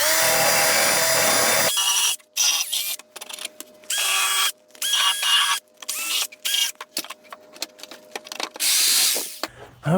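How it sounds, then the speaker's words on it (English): A power sander works over wood for a birdhouse in close, loud, broadband bursts, stopping and restarting in a choppy rhythm over a steady faint whine, with no talking. "sand this off"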